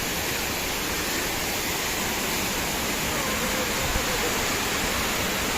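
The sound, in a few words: waterfall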